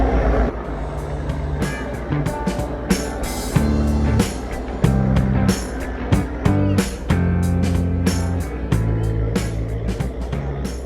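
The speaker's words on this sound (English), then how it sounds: "This is the sound of the ferry" A steady low ferry engine drone runs throughout in Kochi, overlaid with repeated sharp clanks, tonal beeps and busy surrounding noise, with voices faintly mixed in.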